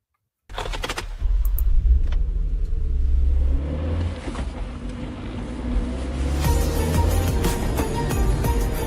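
A car sets off on a drive toward the interstate after a moment of silence, its engine rumbling low and steady from inside the cabin, with a brief jangle of keys and some rising revs later on.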